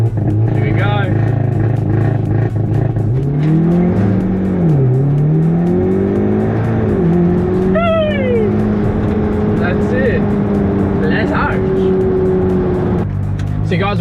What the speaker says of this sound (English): we might be able to do a bit of a launch control